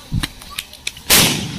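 A few sharp Diwali firecracker pops crack in quick succession, then a bigger blast bursts with a loud, hissing roar.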